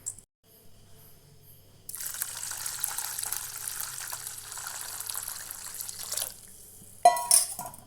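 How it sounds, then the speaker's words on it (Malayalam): Boiling water is poured over washed broken wheat: after a quiet start, a steady splashing pour runs for about four seconds, then stops, followed by a couple of brief clinks and drips close by. "ഇതിന് കുറച്ച് തിളച്ച വെള്ളം ഒഴിച്ചൊന്ന് അരമണിക്കൂർ നമുക്കിതൊന്ന് സോക്ക് ചെയ്യാൻ വെക്കാം"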